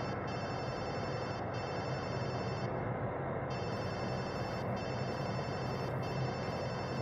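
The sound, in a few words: telephone ringing in video game Watch Dogs 2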